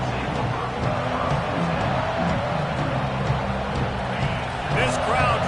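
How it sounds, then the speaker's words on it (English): Stadium crowd in the College Football 26 video game, a dense, steady roar that holds throughout with small swells and no clear break. "This crowd trying to make life miserable for this offense."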